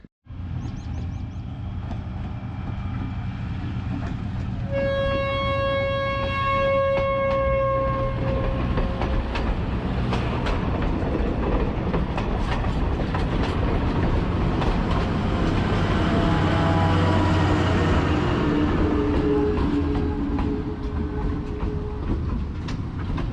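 A train to Machu Picchu rumbles and clatters along a switchback track near Cusco, Peru, for a long stretch, its horn sounding a sustained tone early on, with rhythmic clicking of wheels throughout.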